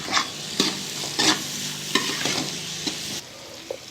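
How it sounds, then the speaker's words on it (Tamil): Tomatoes and onions sautéing in a pan for a lady's finger puli curry, with a steady sizzle broken by several close scrapes and stirs of the spatula, then fading quieter near the end. "நல்லா வதங்கிடுச்சு தக்காளியெல்லாம்."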